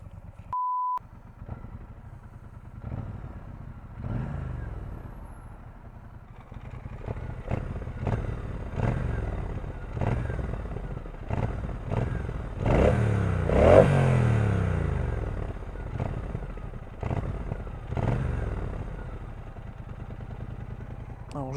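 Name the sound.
Brixton Cromwell 1200 motorcycle engine running and revving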